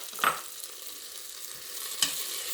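Onions with garlic just added sizzle steadily in a frying pan over medium heat, a soft continuous fry with a couple of brief stirring scrapes, close and fairly quiet.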